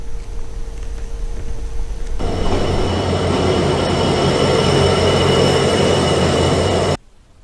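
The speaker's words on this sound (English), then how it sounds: "The Yaldevi train, which plies between Colombo Fort and Kankasanture in Jaffna" Yaldevi passenger train in Sri Lanka rolls along the rails with a steady, loud rumbling roar, a high metallic wheel whine running through it, and the noise stays close for several seconds before cutting off sharply.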